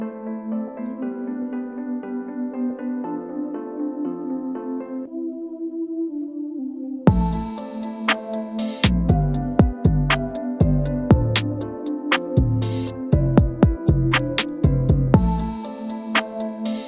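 Melodic synth loop plays alone, then hard-hitting trap drums kick in with booming bass hits, snappy snares and rapid hi-hat rolls.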